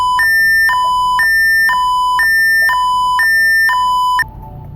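A software alarm in a VT SCADA power-plant simulation repeats a loud, close two-tone electronic beep pattern about five times, then stops abruptly, leaving a faint background hum.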